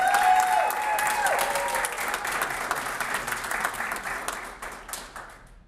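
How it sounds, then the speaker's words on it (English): Audience applause for graduates at a neighborhood leadership institute graduation ceremony, a dense wash of clapping that starts loud, with a few voices mixed in at first, and gradually thins and fades over several seconds. "Again, can we give all of our graduates a round of applause?"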